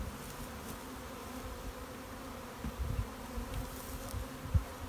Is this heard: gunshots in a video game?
no